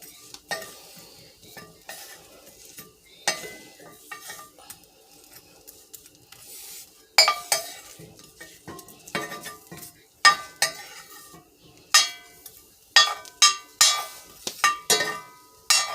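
Plantain cups and jackfruit, charring in a frying pan, are stirred and slide around the pan, giving scraping utensil strokes, light clinks and a soft sizzle in irregular bursts that grow busier toward the end.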